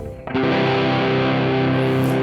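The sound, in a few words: electric guitar blues chords played with distortion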